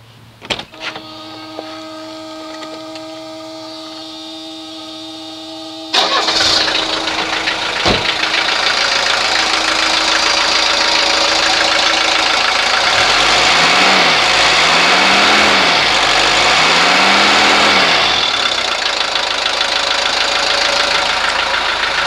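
A 1983 Mercedes 240D diesel engine with freshly serviced injectors cranks, catches after a few seconds and settles into a loud, steady clattering idle, with some surging in engine pitch partway through.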